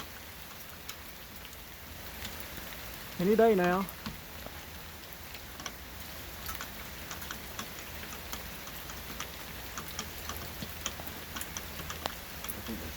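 Steady light rain falls in Florida, a soft continuous patter with scattered ticking drops, while a voice briefly speaks over it.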